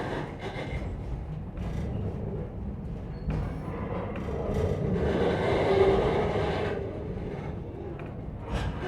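A Strasburg Rail Road steam passenger train in Lancaster County rumbles past with deep low-end roar and clattering wheels, swelling louder in the middle before easing off, no voices.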